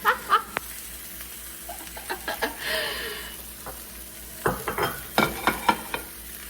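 Nikumaki frying at low heat in a pan covered with a second upturned pan, giving a soft steady sizzle with repeated scrapes and clinks of stirring utensils against the metal, close by with no voices.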